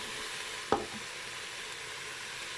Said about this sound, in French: il y a plus de la moitié de doré, du coup je mets mes oignons